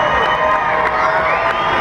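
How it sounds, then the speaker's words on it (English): A basketball crowd at a Bathurst Bears versus Valley Vipers game cheers and shouts steadily and loudly throughout, with children's voices and whoops mixed into the sustained roar. "Crowd getting into it."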